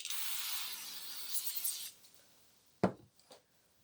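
A steady hissing spray from an aerosol cleaner can onto a Poulan chainsaw part for about two seconds, close by, followed by a sharp knock and faint rubbing.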